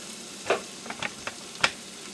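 Food fries in oil in a hot pan while a spoon stirs it for chicken biryani, a faint background sizzle broken by a few short, close scraping taps.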